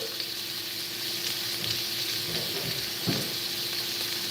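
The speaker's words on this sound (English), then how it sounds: "Listen to that sizzle" Steady, close sizzling of a pot roast searing in a hot pan, a continuous crackling hiss with occasional faint clinks, no voices.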